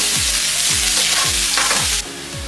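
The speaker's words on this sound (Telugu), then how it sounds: "ఎర్రగడ్డలు వేసుకొని ఇలా మనం ఎర్రగా దోరగా వేయించుకోవాలి" Onions frying and being stirred in a pan for a bean and egg curry, a steady bright sizzle with regular scraping strokes of the spoon about every half second, close and fairly loud, with no voices.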